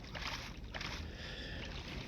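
A boat glides across water in Minecraft Bedrock Edition, a low rumbling wash of water and rushing noise that stays continuous and quiet through the short stretch, with no talk over it.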